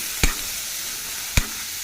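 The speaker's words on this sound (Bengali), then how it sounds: "তো আলুটা এখানে যে ভাজা হয়ে গেছে, এবার কড়াইটা দিয়ে ভালো করে নেড়ে চেড়ে নেব" Fried potatoes are stirred in a kadai, with two sharp knocks of the utensil against the pan over a faint, steady background sizzle.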